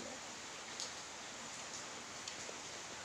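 Steady rainfall, a soft, even hiss of drops with a few faint patters on top, continuous throughout.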